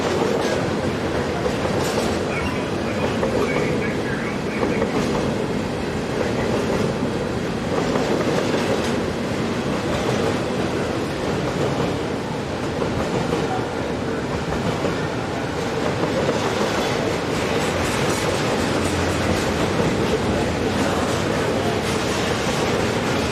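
Long freight train hauling dead locomotives through Rochelle, a loud continuous rumble of rolling cars with rhythmic clickety-clack of wheels over rail joints and occasional faint squeal, steady and close throughout.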